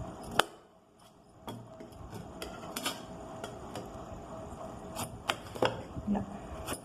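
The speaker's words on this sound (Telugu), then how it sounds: "ఇప్పుడు నేను కట్ చేస్తున్నాను చూడండి." A knife chops a bottle gourd into large pieces on a cutting board, with repeated crisp thuds at an uneven pace, fairly close but quiet.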